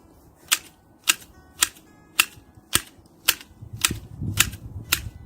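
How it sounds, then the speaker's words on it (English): Garden snips prune lavender in a steady series of about nine crisp, evenly spaced clicks, close and distinct, with a light rustle of stems toward the end. "So another way of doing it a lot quicker is by using a pair of snips."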